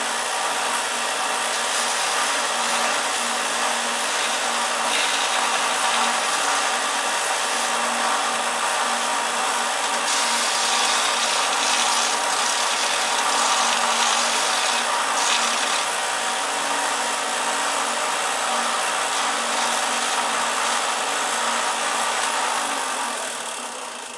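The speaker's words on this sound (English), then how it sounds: "we just come over here to the belt sander" A belt sander runs continuously, grinding down a workpiece with a loud, steady abrasive roar and whine that holds for the whole stretch, swelling slightly as pressure changes, with no one speaking.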